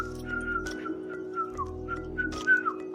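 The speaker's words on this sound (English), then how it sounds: "So there are some people who also create some music with whistle." Someone whistles a simple tune in short, clear phrases with small pitch bends, close and fairly quiet over a soft electrical hum.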